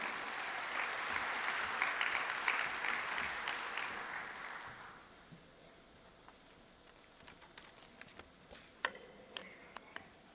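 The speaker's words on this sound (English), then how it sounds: "With a round of applause, let's welcome Mr." Large audience at a formal stage event applauding to welcome a speaker, a broad steady wash of clapping for about five seconds that fades to a few scattered claps in a quiet hall.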